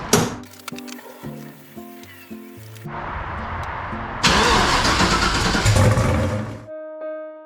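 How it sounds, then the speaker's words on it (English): A Mazda RX7 starts up in a garage: a starter cranks in short repeated bursts, then the engine catches and roars loudly and close before settling toward an idle, with no voices. "We are gonna take the RX7 out of the garage under its own power for the first time."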